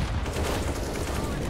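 Gunfire in a competitive shooter game: a dense, continuous rattle of rapid shots under a busy mix of game sound, with voices talking over it.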